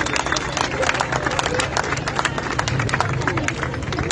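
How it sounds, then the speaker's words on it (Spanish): Audience applause for an Argentine musician at a cultural protest event in Buenos Aires, sustained dense clapping from a large crowd throughout, steady and loud with a murmur of voices mixed in. "Un fuerte aplauso."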